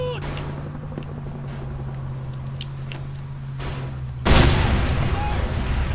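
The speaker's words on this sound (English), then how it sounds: "They usually have rockets flying around here somewhere." A rocket blast booms in Mercenaries 2: World in Flames, a loud sudden explosion striking about two-thirds through after a stretch of quieter ambient rumble, then leaving a sustained roar.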